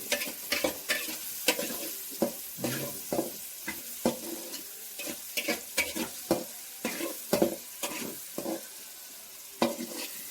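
Onions and tomato sautéing in a pan, a constant oily sizzle broken by frequent sharp scraping stirs at an irregular rhythm, close and clear with no talking.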